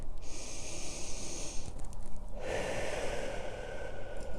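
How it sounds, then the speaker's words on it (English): Slow, deep breaths during a whole-body stretching routine: a long breathy inhale followed by a fuller exhale, close and fairly soft, with no talking. "let's do some nice deep breaths"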